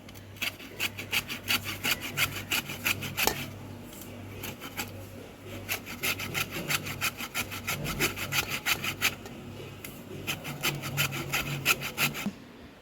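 Steady rhythmic rasping of an ingredient being grated by hand into a large bowl for a dessert, repeated strokes with a brief pause near the middle, close and fairly quiet, no talking.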